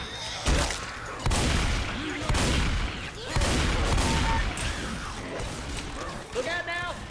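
Gunfire in the zombie shooter Left 4 Dead 2 cracks out in repeated sharp, loud bursts spread across the stretch, mixed with clanking effects while people talk over it.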